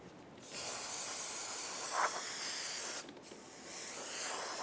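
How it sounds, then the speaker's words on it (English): Parts cleaner sprays onto the rear brake parts of a 2012-2020 Chevrolet Sonic in a long, loud, close hissing burst, a brief pause, then a second spray building up again. "Using some parts cleaner and a rag, we're going to get rid of all of the old grease and brake dust."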